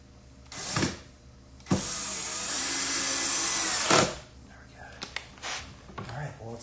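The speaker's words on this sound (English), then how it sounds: "I think I might have drilled it a little bit too much." A power drill whirs in sustained bursts as a carpenter drives into wood, with one long run and several short starts and stops, all loud and close under occasional talk.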